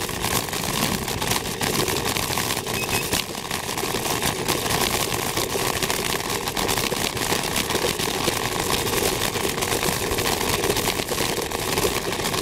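Xiaomi M365 electric scooter pushing up a steep grade-8 hill, a steady motor whine mixed with rushing wind and road noise, continuous and close, with no talking.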